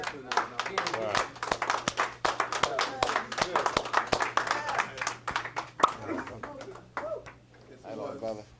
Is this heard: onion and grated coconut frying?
no